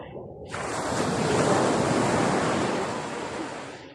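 Sea waves rolling onto a beach, a loud continuous broadband rush that swells and then slowly eases, with some wind noise on the microphone and no speech.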